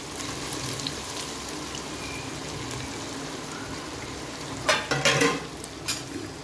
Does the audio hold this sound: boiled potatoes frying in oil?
yes